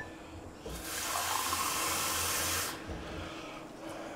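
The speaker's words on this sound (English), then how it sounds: "Right, tap water." Tap water pours into a glass from a faucet, a hissing splashing stream of about two seconds that starts and stops cleanly, with quiet room noise before and after.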